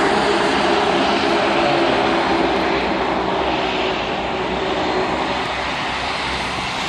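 A Flybe Bombardier Q400 turboprop at Belfast City Airport gives off a loud, steady, broadband engine roar with a low droning hum that holds constant throughout.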